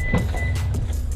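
A Lexus RC or IS car shutting off after a remote start, a steady close engine and motor hum with a brief click and soft whirring settling down, no talk over it.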